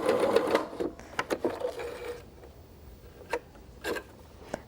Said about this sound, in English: you're going to sew your triangle